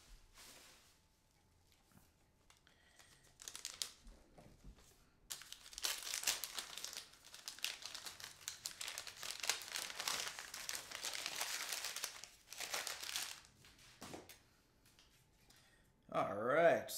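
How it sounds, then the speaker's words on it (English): Packaging from a new guitar being unwrapped, with bursts of close plastic and paper crinkling and rustling that come and go, quiet gaps between them, and a sharper rustle near the end. "so we got all the packaging off"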